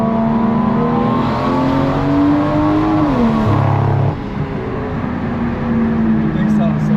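A BMW 335i engine and exhaust are heard from outside the car, a loud steady drone that rises in pitch, dips and settles back, with a broadband whoosh throughout.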